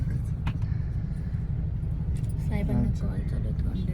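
Dense traffic jam in Pune heard from inside a vehicle, a steady low road rumble with passing cars and a faint horn-like tone, while people talk over it.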